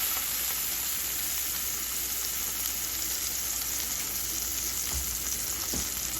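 Minced garlic frying in oil in a pan for shrimp scampi, a steady bright sizzle that crackles without pause and holds an even level, with a couple of faint utensil taps near the end.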